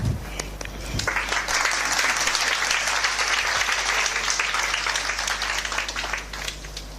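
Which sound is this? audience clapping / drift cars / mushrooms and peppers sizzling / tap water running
audience clapping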